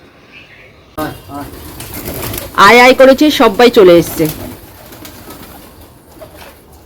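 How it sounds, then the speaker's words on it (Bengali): Pet pigeons coo at home, soft and close, while a person speaks loudly over them, calling the birds in. "আমাদের বাড়িতে পায়রা আছে"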